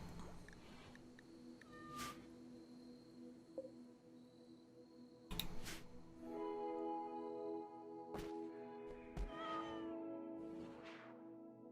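A cat meows in the RimWorld video game, faint calls that recur through a low, steady tonal game soundtrack with a few sharp clicks.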